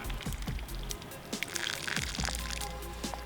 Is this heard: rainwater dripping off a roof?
yes